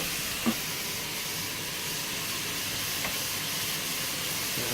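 Mushrooms cooking down in a pot for a mushroom bone broth soup give a steady, even sizzle and hiss, moderately close, with a couple of faint clicks and no talking.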